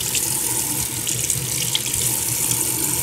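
Tap water runs steadily into a sink as a makeup brush with foundation on it is rinsed, a close, continuous hiss and splash with no pauses.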